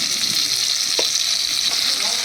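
Spice paste sizzles steadily in a pan while being stirred for a vegetarian Bengali ridge gourd dish, a loud continuous frying hiss with a few soft scraping stirs, close up and without speech.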